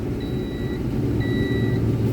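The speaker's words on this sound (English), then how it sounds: "you'll have to put up with a beep beep beep. It's warning me that I'm not wearing my seatbelt" An Iveco concrete mixer truck's seatbelt warning sounds two sustained high beeps, evenly spaced over the steady low rumble of the idling engine inside the cab.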